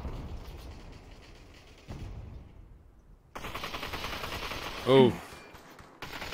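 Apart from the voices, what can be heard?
gunfire in VR video game Population: One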